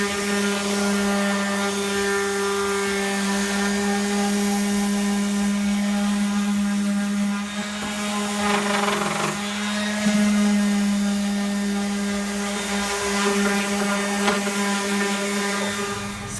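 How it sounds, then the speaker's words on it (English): An orbital sander working on an RV interior gives a steady, loud motor whine with a strong hum throughout, wavering slightly in pitch as the pad presses against the surface. "Orbital sander will get all this."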